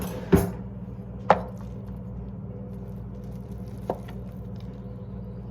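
A knife cuts uncased Irish black sausage into little bits on a board, making a few sharp, separate chops spaced well apart, with quiet in between.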